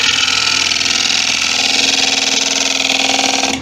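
Sharpened scraper cutting a rough-turned bowl on a wood lathe, a steady droning whir with a faint rhythmic chatter, close and loud, ending abruptly as the cut stops.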